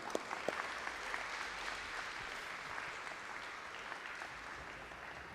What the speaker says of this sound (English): give a round of applause for Miss Farida and her hard work and dedication